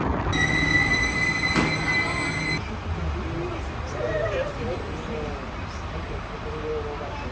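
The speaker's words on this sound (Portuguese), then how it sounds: "E aí vem o nosso trem para Monterosso." A train arriving at a Cinque Terre station in Italy, with a high metal wheel squeal fading into rumbling, rolling rail noise as it slows nearby, voices murmuring in the background.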